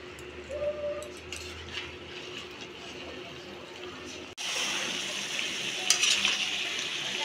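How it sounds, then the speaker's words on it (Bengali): Mutton stir-fried with ground chilli and Kashmiri chilli spices in a pan, a quiet sizzle with stirring that becomes louder and denser after a brief cut, with a few utensil clinks and faint talk. "এখন একটু ভালো করে কষিয়ে নিই।"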